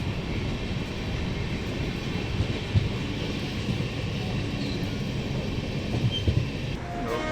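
Bandra Terminus–Surat Intercity Express train 12935 running near Andheri, heard as a steady close rumble and rattle of wheels and carriage filling the whole stretch, with no talk.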